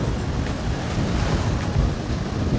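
Loud Baltic Sea surf washes continuously onto the beach at Zelenogradsk while wind rushes across the microphone, a dense, unbroken roar throughout.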